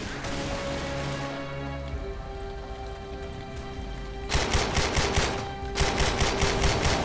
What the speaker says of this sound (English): Kalashnikov!